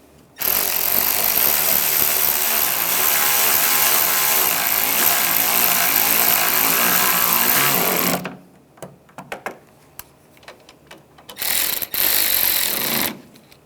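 A power tool drives screws into a 2011-2018 Ram 1500 front bumper cover, buzzing loudly and continuously for about eight seconds, followed by scattered clicks and handling noises and another short burst of running.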